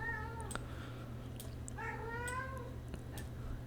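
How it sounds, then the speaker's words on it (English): A pet cat meows in protest, two wavering cries with a gap between, heard faintly over a steady low hum and small clicks, no talking. "I don't know if you can hear my cat. She is protesting me talking about rats so much."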